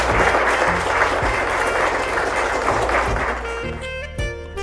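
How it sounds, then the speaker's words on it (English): Sustained applause from an audience at a graduation ceremony for the 5-8 graduating class, a dense steady wash of clapping that thins slightly toward the end, with no talk over it. "A round of applause for the 5-8 graduating class."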